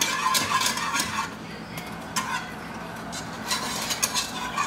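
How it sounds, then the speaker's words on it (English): A whisk scrapes and clinks rhythmically against a pot while Mexican mole is stirred to break up clumps. Close, repeated strokes with a soft background hum. "just takes a little bit of patience and just whisking, making sure those clumps are"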